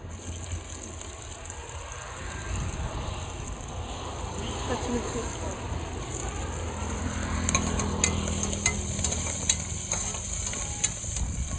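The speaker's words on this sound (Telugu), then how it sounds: "ఇందులో ఆవాలు జీలకర్ర వేసుకున్న తర్వాత పచ్చిమిర్చి వేసుకోవాలి." Mustard seeds, cumin and green chillies fry in hot oil on a camping stove. A steady, rushing sizzle builds slightly, and a run of quick clicks and scrapes from stirring comes in near the end.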